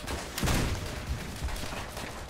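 Grenade explosion in Call of Duty: World at War, a sharp blast burst followed by scattered gunfire cracks and a low rumbling tail, moderately loud against battlefield noise.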